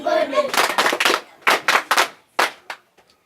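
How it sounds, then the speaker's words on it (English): Schoolchildren in a primary class clap their hands together in welcome, a burst of loud, dense clapping that comes in several rhythmic waves with short pauses, close by and fading out at the end, with a voice briefly heard at the start. "Can welcome them by clapping our hands. Just clap our hands. Warm clap."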